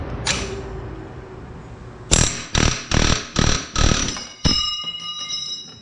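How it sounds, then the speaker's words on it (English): Rapid pneumatic air chisel hammering on a 1986 Chevy K20 pickup during teardown, in six short, loud bursts, each a sharp attack tapering off, preceded by a single early burst and followed by a hissing tail. "Tired of playing games, I'm getting the air chisel."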